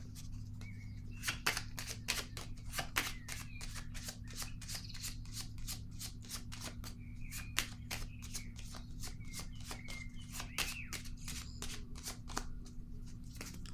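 Tarot cards being shuffled up close, a rapid, continuous run of crisp riffling flicks over a faint steady hum, with no voices.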